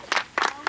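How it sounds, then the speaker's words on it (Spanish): Brief clapping during a Protección Civil search-and-rescue training session, three short bursts of hand claps from a small group, fairly close and quick. "el aplauso fue para él o para mí"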